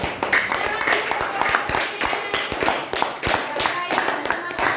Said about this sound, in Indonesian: Ya, terima kasih tepuk tangan.